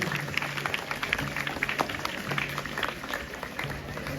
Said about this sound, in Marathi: एकदा जोरदार टाळ्या वाजवा सर्वांसाठी